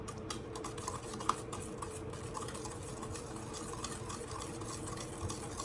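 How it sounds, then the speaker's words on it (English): Eggs and sugar are whisked together in a bowl with a steady, fast, faint ticking and scraping rhythm throughout, heard alone without talk. "I'm going to whisk that together"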